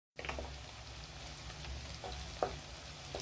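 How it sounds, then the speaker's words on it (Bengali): Cauliflower fries in a pan for a chicken curry, a soft continuous sizzle starting abruptly from silence, with faint stirring clinks and one sharper utensil tap midway. "এবার ফুলকপিটা ভাজা হচ্ছে"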